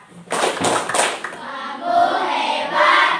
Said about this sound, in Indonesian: berikan tepuk hebat untuk kelompok 4